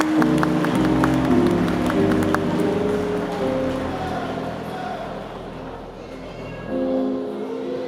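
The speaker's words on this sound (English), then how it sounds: "Can we give them a round of applause, please?" Applause from an audience at a university commencement convocation, a dense rattling burst that gradually thins and fades, then swells briefly near the end with a short musical tone.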